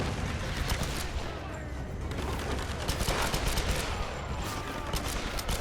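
Pistol gunfire in the video game Tomb Raider, a steady rattle of sharp shots and bursts running through the whole stretch over a dense game-combat background.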